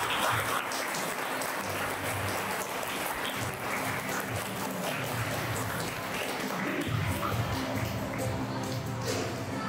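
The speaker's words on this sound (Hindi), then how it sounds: "कृपया जोरदार तालियों से उनका स्वागत करें।" Applause from an audience at a school Hindi Diwas assembly, a dense steady patter of many hands clapping throughout, moderately loud and somewhat distant.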